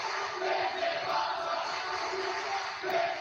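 A large wrestling crowd at an NXT live event sings together in unison, a sustained massed chant echoing through the arena at steady volume with no individual voices standing out.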